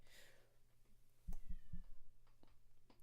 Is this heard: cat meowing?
yes